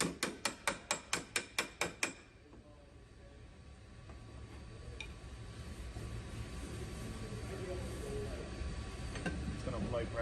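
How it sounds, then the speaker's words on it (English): Nine sharp metallic hammer blows ring out in a quick, even rhythm on a wrecked Audi Q5 quarter panel ridge, then give way to a steady background hiss and hum. "It's going to hammer it down."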